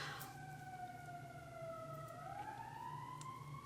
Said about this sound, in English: there's a loud siren.